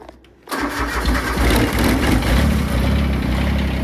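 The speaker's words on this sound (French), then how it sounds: "on va quand même faire le petit démarrage du John Deere" A John Deere tractor engine cranks after a brief quiet moment and catches, settling into a loud, steady, close-up diesel rumble that runs on alone for several seconds.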